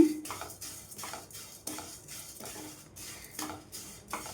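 Vermicelli being roasted in a pan for semiya kesari, a spoon repeatedly scraping and clinking against the metal in an irregular stirring rhythm, close and fairly quiet, with no talking.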